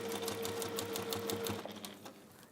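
A sewing machine runs continuously, its needle stitching a seam in a fast steady rhythm, close and prominent, before slowing and stopping near the end.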